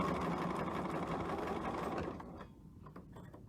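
A sewing machine stitches with black thread through an X-marked fabric, a rapid steady mechanical whir for about two seconds before it slows and stops, leaving faint ticks.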